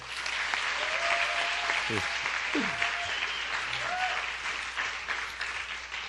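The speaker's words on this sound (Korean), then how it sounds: "자, 3학년들한테 박수 한번 칩시다." A church congregation at a Sunday worship service applauds third-grade students, a steady, dense round of clapping from a large crowd that runs throughout, with a few brief voices over it.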